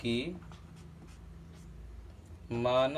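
Quiet scratching strokes on a classroom board during a maths lesson, steady and faint, with a teacher's voice before and after.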